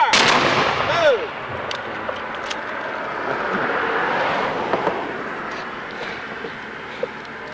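Civil War reenactors fire a musket volley outdoors, heard as a broad crackling blast near the start followed by scattered distant shots and rumbling over a noisy open-air background.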